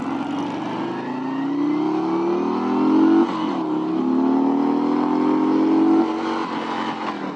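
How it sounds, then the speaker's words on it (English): Harley-Davidson Road Glide motorcycle engine on a test ride, revved hard up to the rev limiter; loud, close rising engine pitch climbing twice with a brief dip between. "I hit the rev limiter there."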